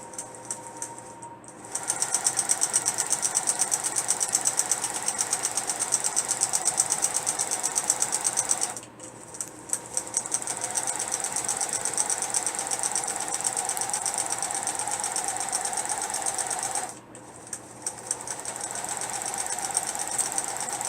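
A computerized quilting machine stitches a triangle design at 12 stitches per inch, a fast steady mechanical whir and clatter that runs in three long bursts separated by short stops, close and prominent with no voices.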